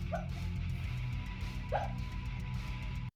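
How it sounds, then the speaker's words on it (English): A sleeping, dreaming dog lets out two soft, high little yips, separated by a pause, over a steady low background hum. "It's like this weird hiccup, like this little yip."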